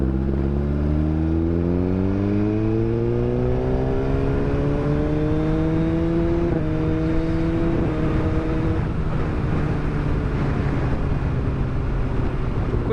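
A 2018 Suzuki GSX-R1000R sport motorcycle with a quickshifter is revving hard while being ridden, its engine tone climbing steadily, shifting, and then holding a loud, continuous whine over road and wind noise.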